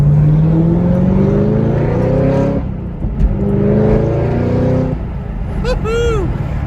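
Chevrolet Camaro ZL1 1LE with a Corsa Extreme Plus exhaust, loud and close, revving up through rising sweeps, then dropping back on sharp downshifts, with a brief tire chirp near the end.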